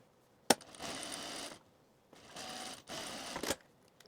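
A sewing machine stitches the hems of shirt pockets for a camp shirt, running in two short bursts of steady whirring, each opened by a sharp mechanical click, close and alone.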